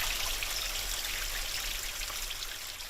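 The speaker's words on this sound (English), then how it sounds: "It is a soothing sound meant to be relaxing. The water here in this Letcher County community flows" Stream water flowing steadily through a Letcher County community, a close, continuous trickling and babbling rush with no voices.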